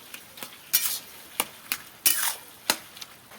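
A spoon stirs cooked cabbage with fish oil in a pan, village style, making a series of close, sharp scraping strokes at an uneven rhythm over a faint sizzle, with no talking.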